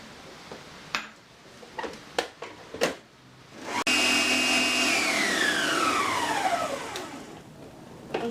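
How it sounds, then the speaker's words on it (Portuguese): An electric stand mixer beating egg whites for a cake: a few quiet clicks and knocks, then the motor switches on abruptly to a loud steady whir whose pitch drops as it settles, running on continuously and close by. "Na batedeira a gente vai bater as claras em neve até ficar em ponto firme."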